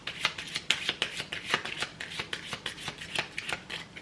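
Tarot cards being shuffled and cut by hand, a quick run of crisp riffling snaps and soft slaps at close range, steady and fairly loud with no voices.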